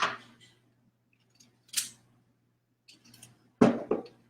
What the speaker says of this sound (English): Cut this apple up. Let's cut this bad boy